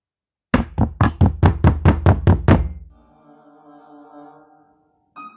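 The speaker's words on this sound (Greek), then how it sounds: "Με την αριστερή παλάμη της τη χτύπησε νευρικά." A palm knocks nervously on a door, nine quick, loud, close thumps in a hurried, slightly uneven rhythm, followed by a faint sustained tonal hum.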